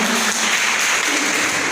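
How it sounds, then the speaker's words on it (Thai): Audience applause at a company event, dense steady clapping from a crowd that holds evenly at full loudness throughout without a break. "ขอเสียงปรบมือดังเพื่อนอีกครั้งเนาะ"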